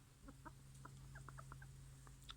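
Backyard hens cluck in soft, separate bursts close by, over a steady low electrical hum, with no voices heard.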